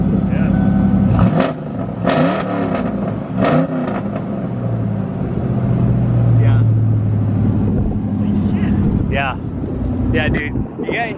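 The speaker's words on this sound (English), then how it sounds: "you ready for the revs?" A Fox Body Mustang GT engine revs repeatedly in bursts, rising and falling with a throaty roar, while people talk over it close to the microphone.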